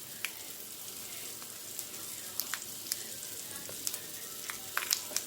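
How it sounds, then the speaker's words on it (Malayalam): Mustard seeds crackle and pop in hot oil while tempering for a drumstick-leaf lentil curry: a steady close sizzle with scattered sharp pops, no talking. "എൻ്റെ കടുക് പൊട്ടുന്ന സൗണ്ട് കേൾക്കാം"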